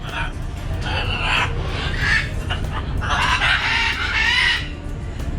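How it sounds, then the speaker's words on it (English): A scarlet macaw at an open-air bird enclosure in Puerto Vallarta gives harsh, loud squawking calls in a couple of bursts, close by, with no talking over them. "Scarlet macaw."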